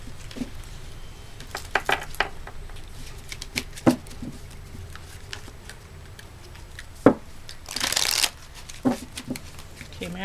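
An oracle card deck being shuffled, with soft scattered card flicks and taps, then one brief louder riffle near the end, close by under a quiet background, with talking.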